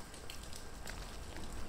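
Steady rain falls outdoors as a soft, even hiss with scattered patters of drops, continuous and fairly faint throughout.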